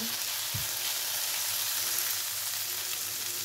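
Leeks stewing in a pan give a steady, soft broadband sizzle throughout, with a brief low knock near the start and no talk.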